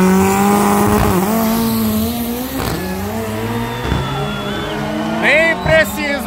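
4x4 vehicles accelerate hard in a drag race at the Cascavel raceway, their engines revving loudly with rising pitch sweeps, while an announcer talks over the roar.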